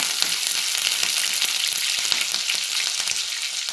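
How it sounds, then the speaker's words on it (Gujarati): Peanuts fry in hot oil for a poha snack, a loud, steady, dense sizzle with constant crackle that runs the whole time, close up and without speech. "દાણાને પણ આપણે આમાં થોડા ફ્રાય થવા દઈશું"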